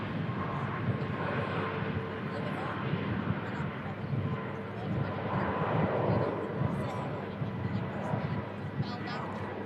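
Ryanair airliner rotating early from the second runway on takeoff, with a broad, steady jet engine roar from a distance and faint talk over it.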